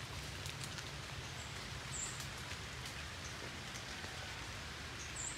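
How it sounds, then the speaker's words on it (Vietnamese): Rain falls steadily on an orchard beside a dried-out jackfruit tree in the Mekong Delta countryside, a soft even hiss of drops with a couple of faint distant bird chirps. "Mưa tới rồi bà con."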